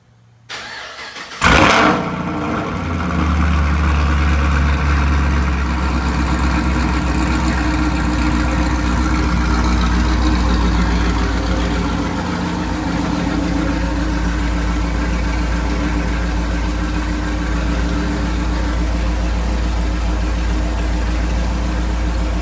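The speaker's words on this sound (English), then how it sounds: "I'll actually get in and do a little rev for you as well." Pontiac G8 GT engine cranks and fires after a brief quiet moment, then settles into a loud, steady, deep idle close by that continues for about twenty seconds.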